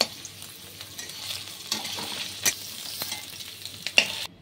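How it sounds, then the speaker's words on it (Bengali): Paneer cubes frying lightly in oil in a pan, a steady close sizzle with soft stirring scrapes and occasional sharper crackles. "পনিরগুলো হালকা করে ভেজে নিচ্ছি।"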